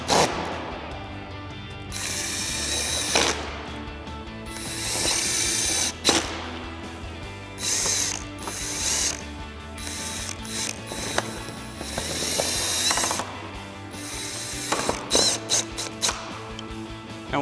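A hand ratchet tightens fasteners into plastic clips during an aluminum intercooler and charge pipe install on a 2015-2023 Mustang EcoBoost, clicking in rapid close bursts with brief pauses between strokes.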